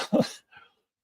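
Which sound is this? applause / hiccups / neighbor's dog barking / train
neighbor's dog barking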